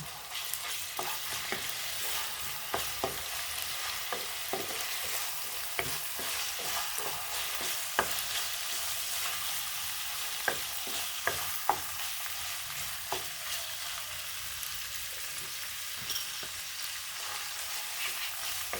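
Ground pork sizzles in a pan for apan-apan kangkong, a steady low frying hiss broken by frequent clinks and scrapes of a spatula stirring, close and unvoiced.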